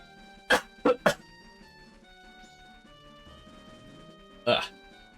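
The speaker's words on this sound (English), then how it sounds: "You're gonna hear me cough a lot today." Several sharp coughs from a person with a head cold: three quick bursts close together near the start, then quiet with a faint game soundtrack underneath, and one more cough near the end.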